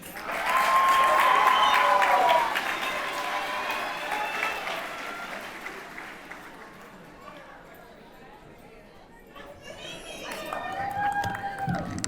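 Audience applause at a high school graduation ceremony, broad clapping strongest at the start and gradually thinning, with crowd chatter and voices underneath.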